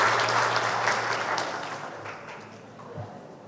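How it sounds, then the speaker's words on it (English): A seated audience gives a short round of applause, a steady wash of clapping that slowly fades over a few seconds, with a low hum underneath. "Give applause."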